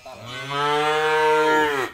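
Cow lowing at close range during bathing and care on an Indonesian cattle farm, a single long, loud, drawn-out moo that swells and fades over about two seconds, with no talk over it.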